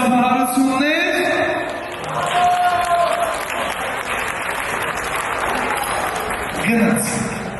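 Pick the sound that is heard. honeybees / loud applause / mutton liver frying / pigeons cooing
loud applause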